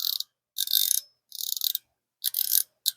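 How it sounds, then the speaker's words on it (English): Penn IV 4000 LE spinning reel with solid metal body and side plate, its drag knob turned to give bursts of crisp rapid ratchet clicking, four separate runs close up with short silences between. "solid click design whenever you're tightening or loosening the drag."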